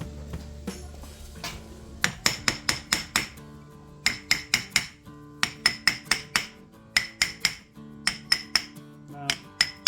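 Metal hammer taps knocking a differential part loose on a 1993 Chevrolet S10 Blazer, arriving in quick bursts of four to six sharp, ringing strikes separated by short pauses, close and clear with no talk.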